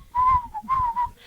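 A person whistles a short two-part tune close by, each phrase a clear steady tone with slight pitch glides, separated by a brief breath.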